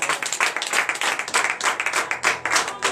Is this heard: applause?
yes